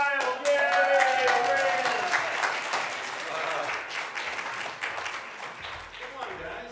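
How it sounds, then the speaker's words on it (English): An audience breaks into loud applause and cheering at a community event, with clapping that starts strong and slowly tapers off while voices call out through it. "And the crowd went wild."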